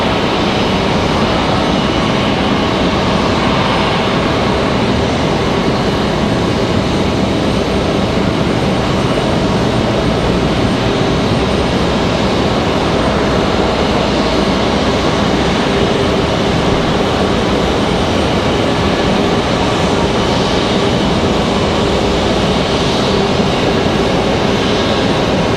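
A blue-and-white JetBlue jet airliner passes at Raleigh-Durham International Airport, a loud, continuous engine roar that holds steady throughout without voices.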